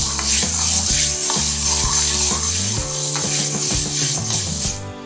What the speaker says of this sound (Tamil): இப்போ ஃப்ளேம் வந்து மீடியம் ஃப்ளேமில் வச்சு நாம் இதை வறுக்க போகிறோம்.